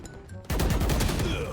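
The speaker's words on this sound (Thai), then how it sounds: "แล้วเสียงยิงของแต่ละปืนไม่เหมือนกันเลยนะบอกเลย" Loud, sustained volley of rapid gunshots in the Valorant video game, starting abruptly after a brief quieter lead-in and continuing as a dense stream of firing.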